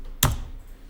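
A single sharp tap of the tab key on a computer keyboard, one brief close click standing alone against a quiet background.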